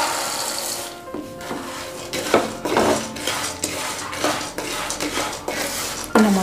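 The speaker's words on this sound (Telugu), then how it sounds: "ఇలా మొత్తం అంతా స్టవ్ని సిమ్లో ఉంచి ఇలా అన్నీ కలుపుకోవాలి అంతా ఇలా కొద్దిసేపు ఇలా వేయించాలి" Peanuts and fried curry leaves being stirred in a pan over a low flame, with repeated scraping and clinking of a utensil against the metal at an uneven rhythm, close and moderately loud.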